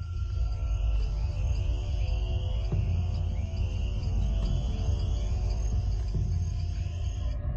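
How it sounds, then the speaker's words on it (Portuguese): Dense night chorus of crickets and tree frogs in a forest, continuous steady trilling with layered high pulsing tones and no voices. "O som das rãs arbóreas e grilos enchem a floresta"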